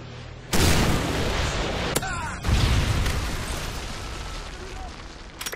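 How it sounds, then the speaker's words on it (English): A Predator missile strike explodes in Modern Warfare 3 with a loud, close, broadband blast that rumbles on. A second heavy impact follows about two seconds later and trails into sustained rumbling and crackle. "Friendly Predator missile inbound."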